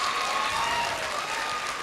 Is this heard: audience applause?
yes